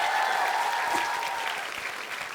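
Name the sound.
audience applause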